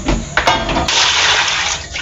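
Water gushes and splashes loudly into a container for collecting garden watering water, a turbulent, continuous rush close to the microphone.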